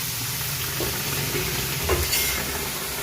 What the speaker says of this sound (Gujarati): હવે આપણે આને તેલમાં તળવા માટે રાખી દઈશું આ રીતે